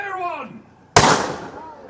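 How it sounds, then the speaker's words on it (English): A theatrical ship's cannon fires once with a sudden loud boom that decays over about a second, part of a pirate-themed show at Disneyland. A costumed performer's voice is heard just before the blast. "For the cannon she be a mite loud, and the gunner's aim be a mite poor."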